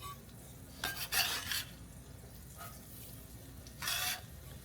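Mushroom stems go into hot salted butter in a pan, giving a few short bursts of stirring and scraping over a faint, steady background hiss. No one speaks.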